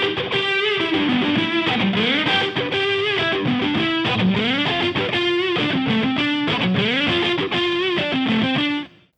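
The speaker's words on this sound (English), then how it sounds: "let's listen to it now on lead guitar" Distorted lead guitar drenched in Sonible Smart Reverb plays a continuous melodic line with bends and slides over a steady backing, loud and sustained throughout before an abrupt cutoff near the end.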